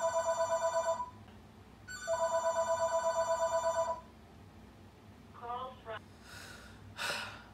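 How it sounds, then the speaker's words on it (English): A telephone rings indoors in two loud, repeated electronic bursts, then stops. Gasps and breathy reactions follow from a nearby person. "That's the first time I have been interrupted by the phone in a video"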